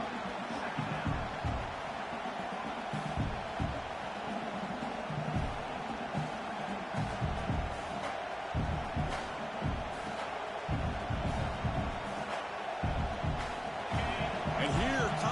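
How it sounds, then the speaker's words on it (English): Steady roar of a stadium crowd in a college football video game fills the background, a dense wash of cheering and noise with scattered thumps, continuous throughout. "This crowd is trying to inspire this defense to make a big red zone stop."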